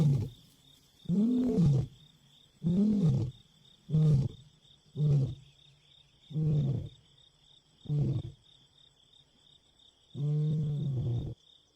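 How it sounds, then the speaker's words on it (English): A male lion calls to his pride at dawn near a lake, a loud series of deep, moaning roars in regular bursts, swelling then shortening into grunts, with a steady insect chorus running underneath throughout. "a male lion calls to placate the rest of his pride"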